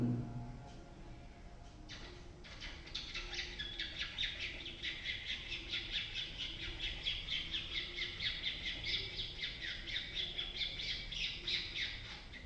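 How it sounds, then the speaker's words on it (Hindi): Birds chirping and squawking in lush green surroundings, a dense continuous chorus of bright repeated calls with a steady pulsing rhythm, moderately close and without any talk. "पक्षियों की चहचहाट।"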